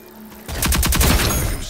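Rapid bursts of video game gunfire erupt after a quiet lead-in, loud and close, with repeated shots in quick succession during a team firefight match.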